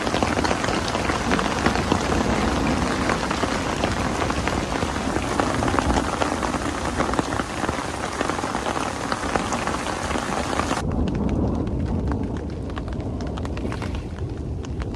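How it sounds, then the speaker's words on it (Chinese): Heavy rain mixed with hailstones pours down outdoors during a thunderstorm at a fishing spot, a loud, dense, continuous drumming that softens slightly near the end. "这雹子下的哗哗的"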